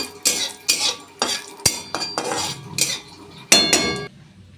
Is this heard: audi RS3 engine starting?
no